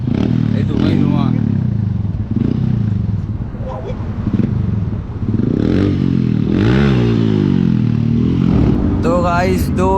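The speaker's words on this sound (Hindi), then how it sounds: "चेक कर सकते हो मैंने सर्कल बना दिया पूरे बाइक से" Kawasaki ZX10R superbike revving hard while spinning burnout circles, engine pitch rising and falling in loud surges close by, with voices talking over the roar.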